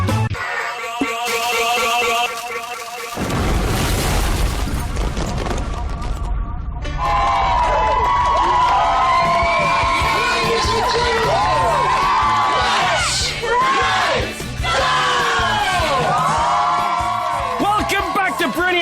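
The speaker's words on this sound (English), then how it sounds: "The crowd are going nuts for darts legend Bobby Glitter George" A darts match crowd cheering, whooping and shouting wildly, loud and close, after a stretch of mixed noisy sound effects, with a voice talking over the din.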